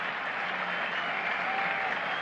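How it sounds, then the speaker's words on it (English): Steady crowd applause ripples around a cricket ground during an England versus West Indies Test match, even and moderately distant. "applause for Alan Knott"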